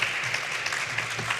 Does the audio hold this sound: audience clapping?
yes